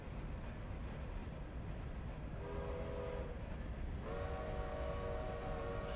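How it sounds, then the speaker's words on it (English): Faint, distant locomotive whistle from the far end of an 18-car train in the railroad game Railroader, two sustained tonal blasts over a steady rumbling rail noise bed. "Barely hear the whistle on this end of the train."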